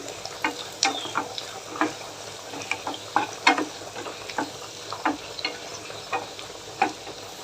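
Cumin seeds and black pepper frying in hot oil for pongal, a steady close sizzle broken by frequent sharp pops and crackles scattered irregularly through the whole stretch, with no voices.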